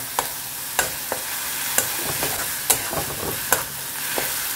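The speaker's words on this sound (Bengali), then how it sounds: "এই যে দিয়ে একসঙ্গে পুরোটা ভাজছি" Pieces of katla fish fry in oil with ginger garlic paste over a low flame, a soft steady sizzle broken by repeated sharp scrapes and taps of a spatula stirring the pan.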